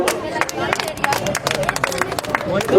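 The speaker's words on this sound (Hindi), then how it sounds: "जोरदार तालियां बजनी चाहिए।" An audience at a prize ceremony in Hisar claps for winners in the 27 and 34 kg weight categories, with scattered, uneven claps close by over a murmur of crowd voices.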